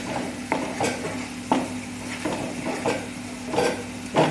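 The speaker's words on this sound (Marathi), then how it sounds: "आता आपण हे सगळं एकत्र करायचं आहे आणि तेलामध्ये परतून घ्यायचं आहे" Spice mixture of red chilli powder, coriander powder and salt sautéing in oil over low heat for paneer masala, a gentle sizzle punctuated by regular clinks and scrapes of a spoon stirring against the pan.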